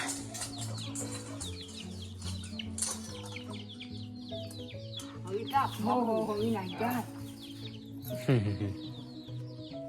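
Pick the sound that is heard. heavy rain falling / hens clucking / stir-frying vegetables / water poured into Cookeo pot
hens clucking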